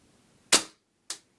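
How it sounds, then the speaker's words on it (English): Second shot from a KJW 1911 gas blowback airsoft pistol: one loud, sharp pop, then a lighter metallic clack about half a second later, close up with silence around it. "And that's the second shot."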